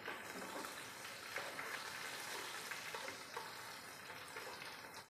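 Three dried red chillies and a handful of curry leaves fry in hot oil with popped mustard seeds for a pomegranate pickle, giving a dense, continuous close sizzle with fine crackling and no talk.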